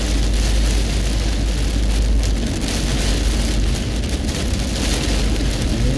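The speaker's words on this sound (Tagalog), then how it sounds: "Oh, malakas ang ulan na to, ha." Heavy rain pours down steadily on a surface, a dense unbroken roar with no voices, holding at the same loud level from start to finish.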